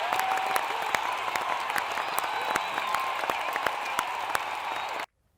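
Dense, sustained applause fills the space at a political rally, with crisp individual claps standing out from the steady crowd wash before it cuts off abruptly near the end.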